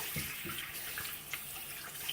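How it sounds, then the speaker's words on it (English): Tap water runs steadily into a sink while shrimp eggs and hatchlings are rinsed through a strainer, a soft continuous splashing stream heard close but quiet, with no voices. "I start running the water again."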